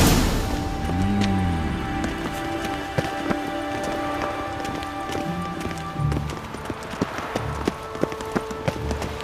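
Rain in a video game, a steady hiss of falling drops with scattered sharper taps and clip-clopping hooves, game voices briefly over it at moderate level.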